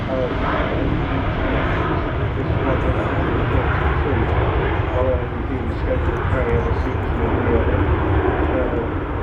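A Boeing 737-700 series jet airliner at Manchester Airport near runway 05L, a loud, steady broadband engine roar that fills the whole stretch without fading.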